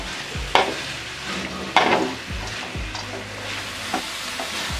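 Moong dal and cabbage being stirred in a hot pan for cabbage palya, a spatula scraping in several distinct strokes over a steady close sizzle of frying, with no talk.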